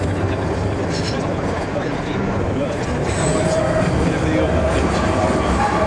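GO Transit commuter train with open gangways running through a tunnel between Toronto stations, a steady loud rumble of wheels and track noise filling the whole stretch with faint higher squeals.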